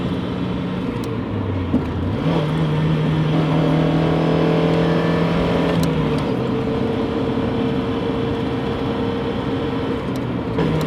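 A 1992 Mazda MX-5 Miata roadster drives along an open road, its engine droning steadily from inside the car with shifting pitch as it accelerates and changes gear.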